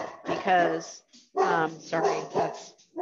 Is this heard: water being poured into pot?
no